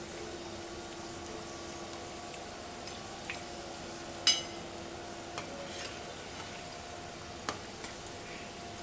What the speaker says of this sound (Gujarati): સરસ બ્રાઉન કલરની થાય ત્યાં સુધી તળી લેવાની.